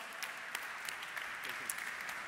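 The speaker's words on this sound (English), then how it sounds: "Let's give him a big round of applause." Audience applause at a startup and innovation event rolls on at a moderate, distant level, a steady texture of many hands clapping.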